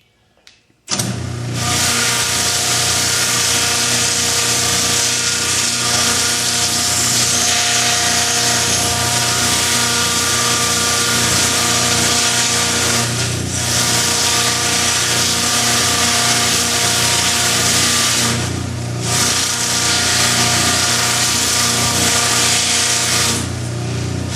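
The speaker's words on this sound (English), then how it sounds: "Got my flap sander here. I'm going to very gently go over this." A flap sander grinds steadily against a buffalo skull horn, a loud continuous motor whine with brief dips in pressure as the abrasive is eased across the surface.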